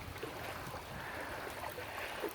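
Creek water flows and trickles faintly in a steady, noisy wash with no talking.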